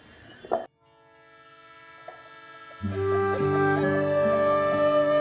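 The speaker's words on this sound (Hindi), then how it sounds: "तू क्या आती जाती ट्रेनों को देख रही है?" A passing train with a loud, sustained horn, preceded by a brief clatter and quieter rumble before the horn blasts in strongly and holds steady to the end.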